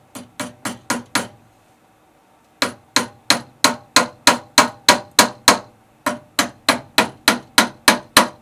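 Sharp, loud hammer blows driving clamps in while installing an extra light with a switch and outlet: a run of about five strikes, a pause, then two long, even runs of rapid, ringing hits.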